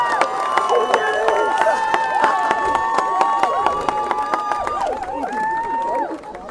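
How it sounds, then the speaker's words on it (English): A crowd at the Marymass 2019 opening ceremony cheers and whoops, with high voices shrieking and clapping mixed in, sustained and loud before easing off near the end. "Big cheer for them, please."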